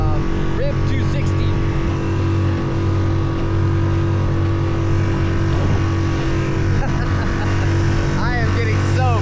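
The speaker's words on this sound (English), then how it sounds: "This little dinghy and little motor is not doing very well." Small outboard motor pushing a West Marine RIB 260 inflatable dinghy through choppy water, a steady loud drone with wind and water slap throughout, close and continuous.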